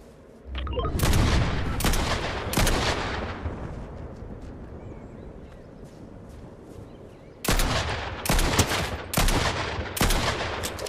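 Gunfire in Fortnite, a trio match: loud bursts of rapid shots and explosive reports cluster at the start and again near the end, with a quieter rumbling stretch between, no talk.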